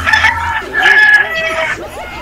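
Several roosters crow in turn among many kept chickens on a Filipino farm, long rising calls overlapping with clucks, fairly close and loud, with a voice briefly present.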